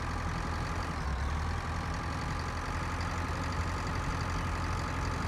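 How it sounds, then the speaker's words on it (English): A big tractor engine idles in Pure Farming 2018, a steady low, rumbling drone that holds evenly from start to finish with no voices over it. "How about we get the big tractor?"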